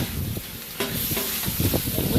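Meat and cheese sizzle on a hot griddle for a Philly cheesesteak, a steady close hiss broken by scraping and chopping strokes from a spatula as the mixture is stirred, no talking.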